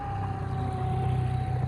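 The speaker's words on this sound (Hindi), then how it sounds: "water ambulance" A water ambulance siren on Dal Lake in Kashmir sounds as a steady, unbroken tone over a low engine rumble, moderately loud and continuous for the whole stretch.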